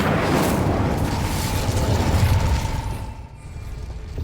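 A fiery Incendio spell cast in Hogwarts Legacy, a loud sustained roaring whoosh of flame with crackling bursts that rumbles for about three seconds before fading.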